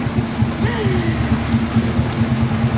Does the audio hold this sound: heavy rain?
yes